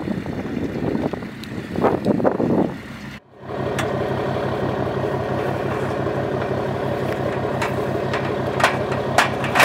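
A truck engine idles nearby with a steady low rumble, preceded by gusty wind noise and a brief dropout, continuing alone without voices.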